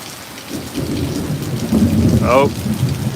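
Steady heavy rain pours during a severe storm while low thunder rumbles and swells nearby, with a brief chirping bird call cutting through near the end.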